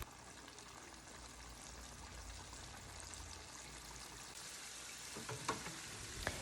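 Thin chicken pieces deep frying in fryer baskets, a soft continuous bubbling sizzle with a low rumble, fairly faint, with a few sharper clinks near the end.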